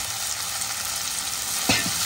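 Onions and potato pieces frying in oil give a steady, dense sizzle, broken near the end by one sharp scrape of a spoon stirring the pan.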